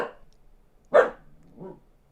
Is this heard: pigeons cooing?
no